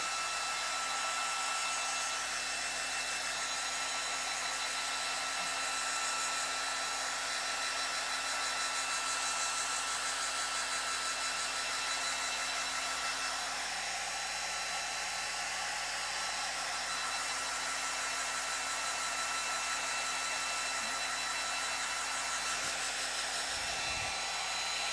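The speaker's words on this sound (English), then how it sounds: "So I'm going to dry it. Get my hair dryer out." Hair dryer blowing on a freshly painted rock, a loud, steady broadband whoosh with a constant motor whine running unbroken for the whole stretch, no voices over it.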